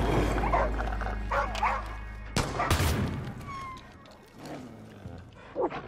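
A dog in the video game Far Cry New Dawn barks and whimpers several times close by, over an outdoor game soundscape with low rumbling.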